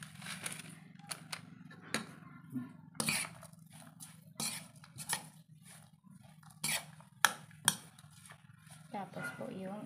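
Tortang dilis batter with red bell pepper and celery being mixed in a bowl, a utensil clinking and scraping against the sides in irregular close bursts over a steady low hum.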